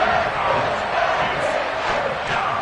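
In Madden, a stadium crowd roars after the defense forces a fourth down in a Washington game, a dense, continuous cheer that stays loud throughout.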